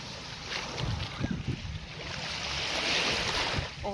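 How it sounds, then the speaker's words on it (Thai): Sea waves wash onto the beach at Bang Saen, Thailand, in a continuous hissing surge that swells louder toward the end, close by, with no talking. "โอ้โหคลื่นทะเลซัด"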